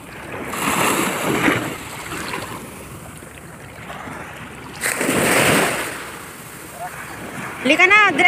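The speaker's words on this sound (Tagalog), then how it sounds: "Ang lakas pa alon." Strong ocean waves surge and wash in twice at Shekinah Beach Resorts in La Union, with wind buffeting the microphone. People talk nearby between the swells.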